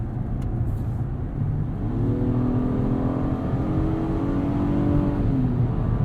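A 2022 Acura MDX accelerates up a highway on-ramp, its engine note rising steadily with clear harmonic tones that climb and hold under a constant close road and wind roar.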